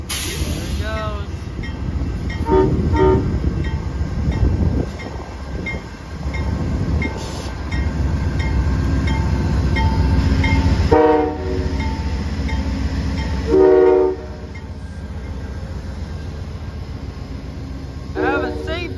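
Amtrak P371 passenger train departing, with rumbling rail cars, hissing and several short horn blasts sounding nearby, while someone talks over the passing train.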